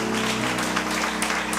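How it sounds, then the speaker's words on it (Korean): Church congregation clapping in praise during a Korean worship service, a steady continuous wash of applause filling the room over sustained organ or music tones. "무조건 우리에게 기쁨을 주시러 오신 예수 그리스도께 큰 박수로 영광 돌리겠습니다."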